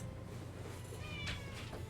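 A cat meows in the video game Mass Effect 1, a couple of short, faint mews rising over a steady low background hum with no talk.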